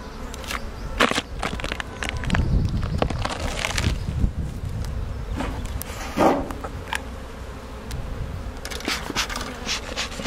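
Honey bees buzz around an opened hive box of honey supers in Chartres, a faint steady hum beneath rustling, knocks and handling clatter close by.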